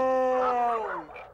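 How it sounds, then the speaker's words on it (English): Sled dogs howl together in a drawn-out, sliding chorus, several voices held close and loud for about a second before tapering off into a lower wail. "Rachael grew up listening to her dad's sled dog sing lullabies."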